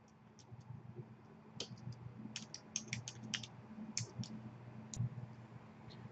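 Typing on a computer keyboard: a run of light, irregular key clicks at close range, sparse at first and then denser, with no voices.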